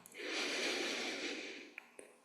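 One long, deep, close inhale through the nose during a yoga breathing practice, a steady airy rush lasting about two seconds, followed by a couple of faint clicks.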